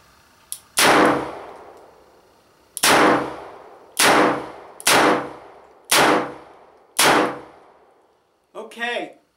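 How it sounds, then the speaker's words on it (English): Six loud, sharp shots from a Chiappa Rhino 50DS .357 Magnum revolver fired double action, spaced unevenly over several seconds, each with a ringing decay, followed by a brief metallic rattle. "I'm going to shoot double action with this"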